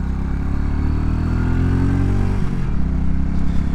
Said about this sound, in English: see if I can hear the engine on this bike